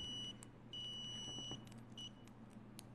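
A KING'SDUN KS-830L multimeter's continuity beeper sounds loud, steady high tones in three separate beeps of differing length, the longest lasting almost a second, over a faint background hum.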